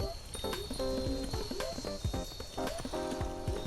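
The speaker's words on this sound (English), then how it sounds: "You got yourself a nice little donkey," Donkey hooves and snorts from a mod in Skyrim on PS4, a run of quick clip-clop hoof steps with snorting bursts, fairly close and loud, with game music or effects underneath.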